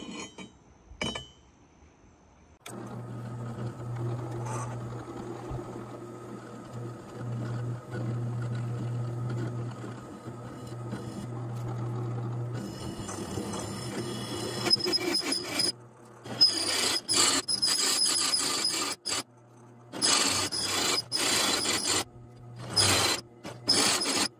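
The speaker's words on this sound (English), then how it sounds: "It's time to get things set up and drill some holes." Steel being drilled for a metal conex roof bracket build: a steady low machine drone runs for about ten seconds, then gives way to bursts of harsh high-pitched grinding and cutting with brief pauses between them.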